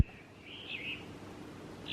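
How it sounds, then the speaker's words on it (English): Tiny baby birds chirp faintly outdoors, a thin high twitter rising briefly and then trailing off against steady background hiss. "there's little tiny baby birds right there"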